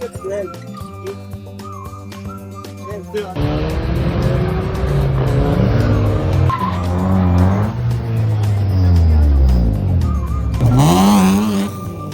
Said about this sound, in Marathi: आता इथे हायाबुसाचं टॉप स्पीड